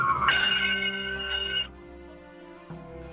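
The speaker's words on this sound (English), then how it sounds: "the shuttle undocked with the traditional ringing of the ship's bell." A ship's bell rung aboard Space Shuttle Discovery as it undocks on its final mission, bright metallic tones sounding faintly through a radio-like link, a sustained ring fading and a later softer strike.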